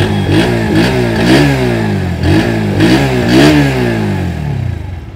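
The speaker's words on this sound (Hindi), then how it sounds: "तो भाई पल्सर की आवाज़ अगर देखोगे ना तो यहाँ बेस थोड़ा सा ज़्यादा मिलता है।" A Bajaj Pulsar NS 125 motorcycle's 125 cc engine revs repeatedly, with loud, close throttle blips rising and falling in pitch three or four times over a bassy idle, no talking.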